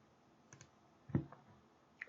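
A couple of soft computer mouse clicks at close range, with a sharper click near the middle of a short quiet stretch, made while opening a web page in Chrome.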